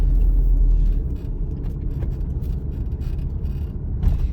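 A car driving on the road during a practical driving exam, heard from inside as a loud, steady low engine and road rumble, with a few faint rattles and no voices.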